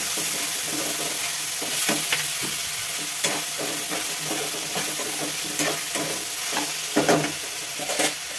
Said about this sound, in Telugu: ఉల్లిపాయలు మగ్గుతున్నాయి. టమాటా ముక్కలు కూడా వేసుకుందాం.